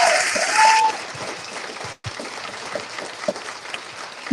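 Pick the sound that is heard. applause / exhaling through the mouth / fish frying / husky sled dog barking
applause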